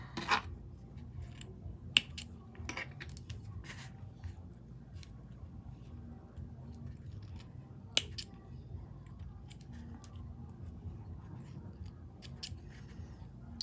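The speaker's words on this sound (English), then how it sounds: "and then trim these off" Scissors snipping the ends of macrame cord on a daisy chain project, a scattering of short sharp clicks and cuts spread unevenly over quiet room tone, two of them notably louder.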